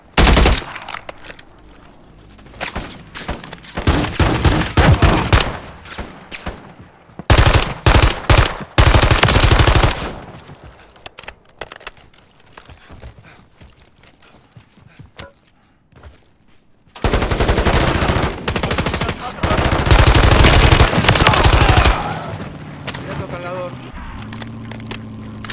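Call of Duty gunfire in heavy bursts: loud automatic rattles and shot volleys come in several long blocks separated by quieter stretches, with a voice briefly heard amid the action.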